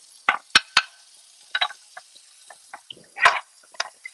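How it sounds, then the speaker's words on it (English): A frying pan is rinsed under running water in a home kitchen, with scattered splashes, drips and clanks of the pan close by. No one speaks. "I mean, wash this pan."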